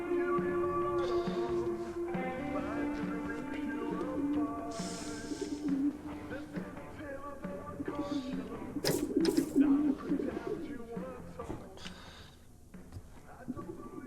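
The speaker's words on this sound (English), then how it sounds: "It's pigeons, bro." Pigeons coo in the video game The Occupation, soft repeated low calls heard against ambient game music and environmental tones, with someone talking over parts of it.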